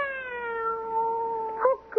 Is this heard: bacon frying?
no